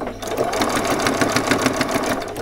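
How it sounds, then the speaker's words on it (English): A sewing machine runs steadily, stitching a back stitch on fabric for a frilled top, with a fast, even mechanical rattle that stays close and continuous. "I'm going to do a back stitch."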